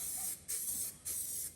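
Copper weld-through primer sprays from an aerosol can in two short, close bursts of sharp hiss with a brief pause between them.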